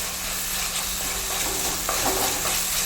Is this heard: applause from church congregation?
no